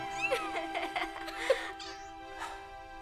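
A cat meowing and yowling in several rising, wavering cries, fairly close, over a steady background tone with other voices mixed in.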